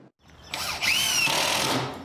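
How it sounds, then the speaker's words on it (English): A power drill whirs at a house under construction, spinning up after a brief pause and holding a loud, steady whine with rising pitch sweeps. "Everything from drilling"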